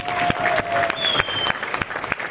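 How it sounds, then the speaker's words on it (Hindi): Audience applause at a Safe Shop leadership gathering, dense clapping from a crowd filling a brief stretch steadily, with a couple of faint tonal whistles riding over it. "तो तालियां हो जाएंगी।"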